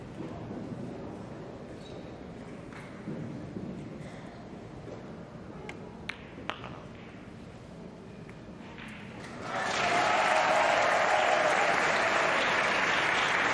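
A crowd at a pool match bursts into loud cheering and applause after a stretch of quiet murmuring with a few sharp clicks, and the roar then holds steady to the end.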